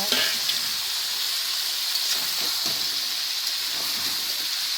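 Food fries in a pan with a loud, continuous sizzle like steady rain, and soft scrapes of stirring rise now and then over the hiss, with no one speaking.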